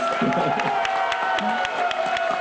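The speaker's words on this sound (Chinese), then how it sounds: "我们特别要给最热烈的掌声给 Laura Rosenberg" Applause and cheering from a banquet crowd welcoming AIT chair Laura Rosenberg, a dense, steady wash of clapping and shouts held at one level throughout, with voices mixed into the din.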